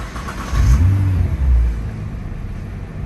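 A car engine runs close by and is briefly revved, the low rumble swelling loudly for about a second before settling back to a steady idle.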